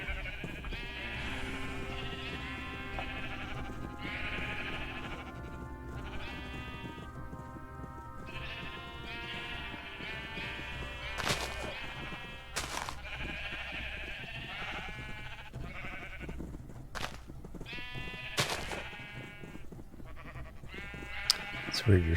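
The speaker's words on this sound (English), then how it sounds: "Too many sheeps." Several sheep bleat repeatedly in a Minecraft world, the calls overlapping and coming in bursts, with people talking alongside at a moderate level.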